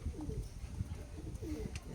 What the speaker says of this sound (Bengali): আমার পায়রাগুলো সব বার হয়ে গেছে।